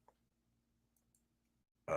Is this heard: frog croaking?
yes